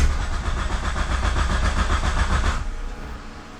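A 2G Mitsubishi Eclipse GSX with a FuelTech system cranks, the starter's rhythmic chugging fast and loud for a few seconds before it stops abruptly without catching.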